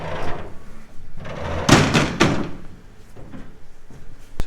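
A spring-loaded back door on a slurry tanker trailer swings open with a couple of sharp clunks and rattles, followed by quieter shuffling handling sounds close by.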